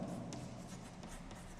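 A pen writing on paper, quiet close scratching strokes in a steady series of short scribbles.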